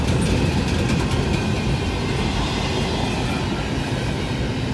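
A BNSF freight train of manifest cars rolls past close by, a loud continuous rumble and roar of wheels on rail with faint rhythmic clacking.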